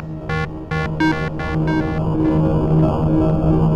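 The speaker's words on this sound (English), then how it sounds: "First, I'm going to take this spinning synth and send it through these two pedals for some ambience." A spinning synth runs through two ambience effect pedals, giving repeated bright pulsing tones over a steady drone that then smears into a washed-out, reverberant sustain, fairly loud with no talking.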